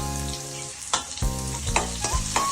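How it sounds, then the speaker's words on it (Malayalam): Mustard seeds crackle and pop in hot oil at the start of a fish curry, a close, busy sizzle with sharp bursts every half second or so. "തിളച്ച എണ്ണയിലേക്ക് അല്പം കടുക് ഇട്ട് കൊടുക്കുക"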